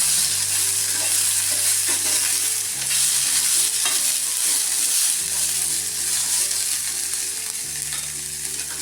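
Peas roasting in a pan until soft for matar kachori filling, a loud, dense sizzle with frequent stirring scrapes over a steady background hum that shifts pitch a few times.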